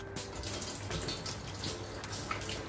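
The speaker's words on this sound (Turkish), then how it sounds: "Kapağını açıyorum ve suyunu süzüyorum." Bitter brine pours steadily out of a jar of cracked green olives, a continuous close splashing trickle of liquid with no talk.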